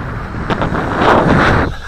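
Strong gusty wind buffeting the microphone during a Syma X5C quadcopter flight outdoors, a loud broadband roar that swells and eases over a couple of seconds, with no talk.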